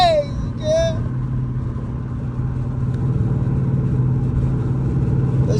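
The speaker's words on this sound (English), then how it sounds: "that exhaust leak is crazy" Loud, steady exhaust drone from a Charger with a cammed 5.7 engine and an exhaust leak, cruising on a freeway, heard from inside the car as a continuous low rumble with a brief voice at the start.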